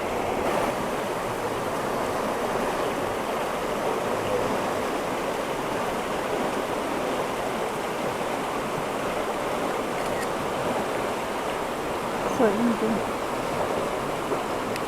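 The clear Azusa River in mountainous Kamikochi, Japan, rushes in a steady, close, broadband wash of flowing water that never lets up, with faint sounds of people now and then.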